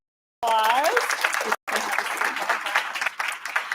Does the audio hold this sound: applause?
yes